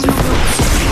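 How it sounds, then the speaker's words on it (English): A loud, close rocket explosion in a video game, a single dense blast that fills the whole second with a heavy boom and rumbling burst. "He just rocketed me."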